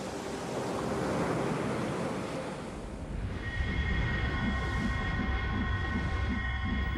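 Ocean waves surge at sea in a steady, loud wash of surf with broad, roaring texture, joined midway by a faint sustained tonal hum, with no voices.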